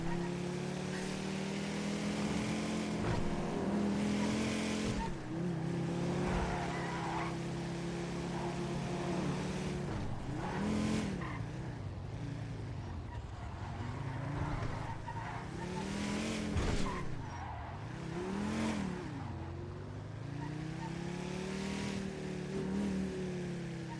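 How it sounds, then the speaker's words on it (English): Busy car traffic in a Nopixel roleplay game city, a loud steady drone of passing engines with swelling revving sweeps and occasional tire squeal, continuing throughout close by. "Fucking traffic here is too loud."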